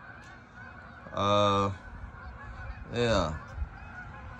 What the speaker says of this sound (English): Got the geese flying, wanting to land.